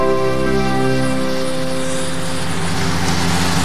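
Angel CH7, a tiny kit-built single-seat helicopter designed in Italy, drones steadily with a loud, close, humming engine note and sustained harmonic whine that holds for a few seconds without pause.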